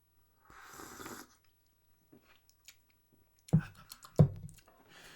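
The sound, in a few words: sipping Mountain Dew from a Master Chief cup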